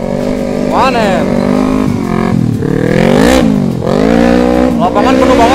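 A 250cc motorcycle engine revs up and down repeatedly, loud and close, with rising and falling pitch sweeps throughout, as a woman rides it on a crowded field.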